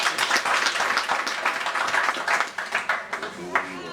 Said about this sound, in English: One more time, a round of applause for her.